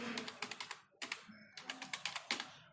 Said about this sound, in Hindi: लुक के बाद में मैं मास्टर सुमित लिखता हूँ